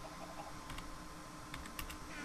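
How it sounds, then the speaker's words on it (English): Computer keyboard keys tapped while typing a chat message during Minecraft play, a few quiet scattered clicks in short bursts over a soft steady background, close and alone without talk. "I will type"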